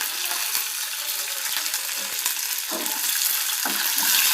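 Curry leaves, onions and green chillies fry in oil for a potato fry, making a continuous moderate sizzle with a few soft scrapes of stirring.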